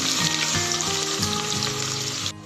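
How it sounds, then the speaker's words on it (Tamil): Chopped onions sizzle loudly in hot oil with a bright, crackling hiss that drops off sharply near the end. "பொரிஞ்ச உடனே நறுக்கின வெங்காயத்தை சேர்த்துக்கலாம்."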